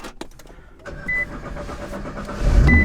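A Nissan GT-R starts up in a garage in the morning: a few clicks and a whirring starter, then the engine catches at the end with a loud rising low rumble.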